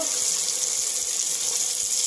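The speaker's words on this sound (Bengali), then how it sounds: "অল্প একটু পানি দিয়ে দেবো" A little water is poured into a pan of cauliflower and potatoes frying in spice paste, giving a continuous close splashing rush with a faint sizzle beneath.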